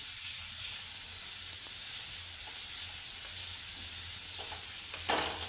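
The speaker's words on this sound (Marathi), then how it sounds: "आणि त्याच्यामध्ये आपण आता हा कांदा कापलेला टाकणार आहोत।" Chopped onion frying in a pan while cooking a Maharashtrian vegetable dish, giving a steady, fairly quiet sizzle with a hiss throughout and a few faint stirring clicks near the end, with no talking.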